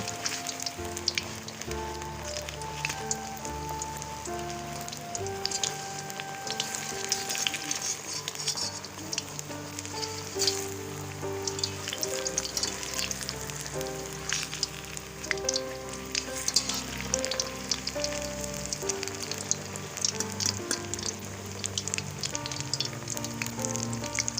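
Restaurant-style masala fish fries in a pan over a low flame, a continuous crackling sizzle running the whole time with sustained tonal sounds in the background.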